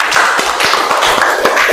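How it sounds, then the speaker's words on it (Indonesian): Short burst of classroom applause for a student at a junior high school in Indonesia, a small group clapping in quick, uneven taps, close and loud, with no talking. "Tepuk tangan untuk Tiara"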